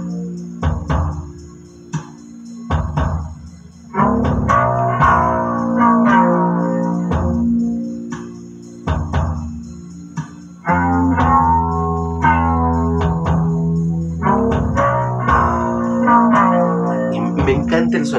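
Softer rock track with less reliance on distortion, from an album review; guitars ring out in repeated sustained chords with ride cymbal and kick drum, loud and steady throughout.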